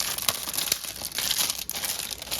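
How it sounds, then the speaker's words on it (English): A screwdriver slices open the plastic packaging of a new 3-way light switch, making close, steady crinkling and tearing with a few sharp crackles and no talking. "I'll take a screwdriver and slice the plastic."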